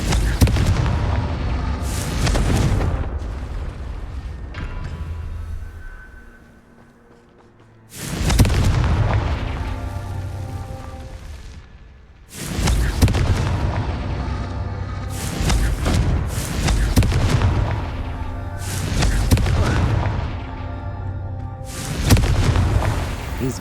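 Repeated Confringo blasting spell explosions from the Hogwarts Legacy video game: a series of loud, heavy booms, some grouped in quick bursts with short rumbling lulls between them, and no voices.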